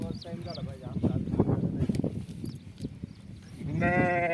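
Goats and sheep bleat repeatedly as they are let out to graze in the fields, several calls overlapping close by beneath a voice.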